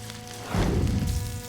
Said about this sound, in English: Let's put in the pork. We want to cook this for about 2 or 3 minutes.